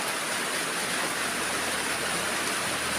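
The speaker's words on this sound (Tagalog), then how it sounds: "Malakas po ulan dito." Heavy rain pours down in a dense, steady roar that fills everything with constant noise, loud and unbroken, no voices heard.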